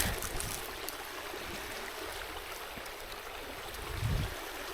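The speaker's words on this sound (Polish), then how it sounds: "Mamy rzeczkę." A small river stream flowing outdoors, a faint, steady wash of water with a soft low rumble rising briefly near the end, heard alone without speech.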